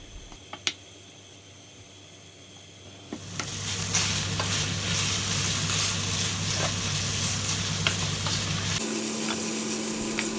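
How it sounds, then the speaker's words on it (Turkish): Quiet room tone, then a sudden, steady sizzle of minced meat browning in a hot pot. It stays loud and continuous, with faint stirring scrapes. "tenceremize koyup kavuruyoruz"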